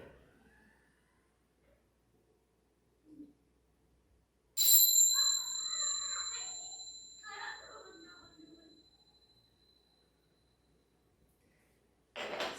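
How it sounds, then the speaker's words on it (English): A bright bell chime rings out clearly in a quiet room during a children's and family yoga session, its tone ringing on and fading over several seconds, with a second strike near the end and faint soft speech nearby. "the next time you hear the bells, we're going to roll onto our back"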